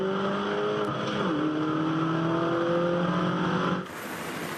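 Mini Challenge race car at speed on the Gold Coast street circuit, a loud continuous engine drone with gear-shift pitch steps, fading slightly near the end.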